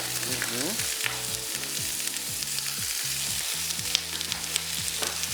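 Shrimp fry in a hot pan with a steady, loud sizzle and crackle that never lets up, while a voice talks underneath throughout.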